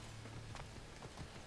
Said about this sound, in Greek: Έχουμε άλογο.